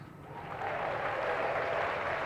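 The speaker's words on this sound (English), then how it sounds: "They are clapping their hands because you did something well." A steady wash of applause from a group, swelling slightly after the start and holding evenly, moderately loud with no distinct voices.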